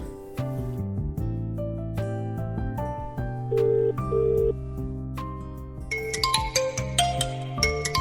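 A melodic phone ringtone plays steadily, its tune repeating in bright electronic notes with no one talking.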